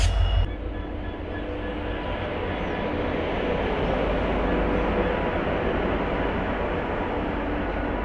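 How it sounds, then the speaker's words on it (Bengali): Balurghat–Siliguri Intercity diesel express train departing Eklakhi junction, a steady loud rumble of rolling coaches and clattering wheels heard from on board, starting with a brief thump and holding constant. "এবার ট্রেন বেরিয়ে পড়বে টুয়ার্ডস শিলিগুড়ির দিকে।"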